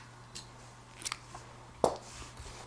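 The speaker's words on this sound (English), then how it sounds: "then I'll cut this yarn." Scissors snip through knitting yarn once near the end, a sharp close cut after a couple of lighter clicks, in a quiet room with a low steady hum.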